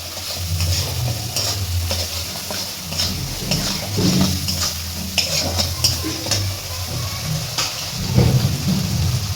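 A bitter gourd dish is stirred in a pan over high heat, giving a continuous loud sizzle with repeated scraping strokes and a low rumble underneath, no one speaking.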